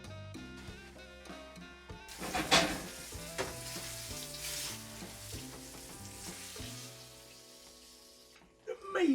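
Swiss steak meat browns in a hot pan, sizzling and spitting steadily at moderate volume beneath background music.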